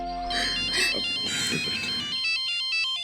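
A phone ringtone plays a bright, repeating electronic melody, with voices talking over the first part before the tune continues alone.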